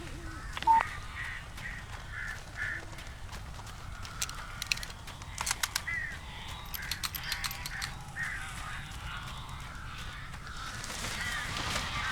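Crows caw in the video game Alan Wake, scattered harsh calls repeating irregularly over a low ambient game rumble, with a few sharper clicks and thumps mixed in.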